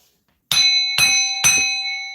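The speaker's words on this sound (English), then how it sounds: "Let's bang this bell to remove," A bell is struck three times in fairly quick succession, each strike close, bright and ringing, with the tone lingering and overlapping the next.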